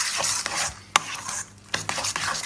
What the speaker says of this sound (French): Et là vous mélangez le tout.